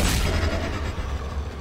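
Gunfire in the Darkest Dungeon game, a dense, loud booming blast with a heavy low rumble that fills the whole short moment.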